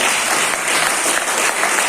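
Steady, dense applause from a seated audience at a business seminar, filling the whole stretch evenly with no voices on top.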